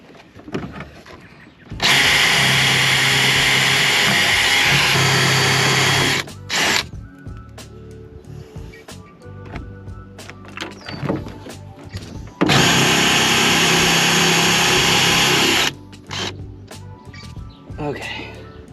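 A DeWalt power drill bores through material in two long, loud bursts of steady whine, with quieter handling clatter and brief talk between them.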